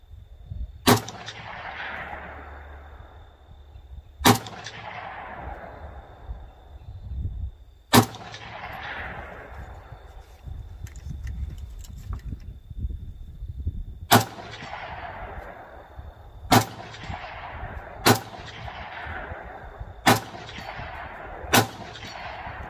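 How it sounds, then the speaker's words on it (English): Sharp, loud rifle shots from an M+M M10 ring out one at a time at an outdoor shooting range, about eight spaced reports with echoing decay between them over steady background noise. "I ended up putting about 120 rounds through this M10 altogether"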